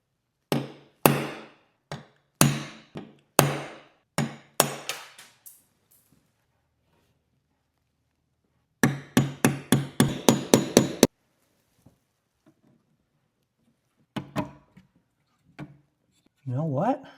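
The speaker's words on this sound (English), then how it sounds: "I'm going to use a nail set and a hammer" A hammer drives a nail set to knock a broken clip loose during a Williams PinBot pinball machine restoration, sounding as a run of sharp, close metallic taps in quick bursts, with a pause between the groups and a few lighter hits toward the end.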